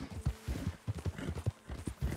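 A horse trots in the video game Red Dead Redemption 2, its hooves striking in a quick, steady clip-clop rhythm that stays close and fairly faint throughout, with no talking over it.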